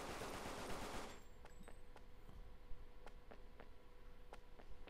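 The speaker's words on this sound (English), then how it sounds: "She shoots so casually." Guns fire in the action game Bayonetta, a string of quick, faint, crisp shots spaced unevenly after a loud burst of noise at the start, with no talking.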